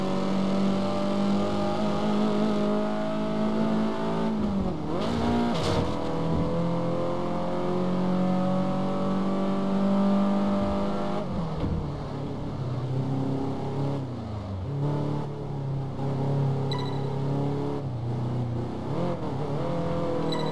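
Classic Ferrari racing car engines in Test Drive Unlimited 2, loud continuous revving with rising pitch through gear changes, brief dips and surges as the cars accelerate, no talk over them.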